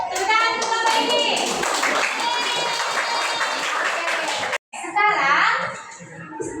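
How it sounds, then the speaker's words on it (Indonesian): Schoolchildren in a classroom clap together in a sustained burst, mixed with their own chatter and a teacher's voice, then a short gap and more clapping with talk. "Tepuk tangan untuk Bapak ini."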